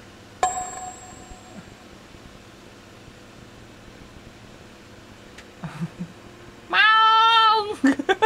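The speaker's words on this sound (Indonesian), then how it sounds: "Aduh, kucingku. Ada kucingku, guys." A pet cat lets out a loud, drawn-out meow close by near the end, after a quiet room stretch broken by a single clank and some faint shuffling.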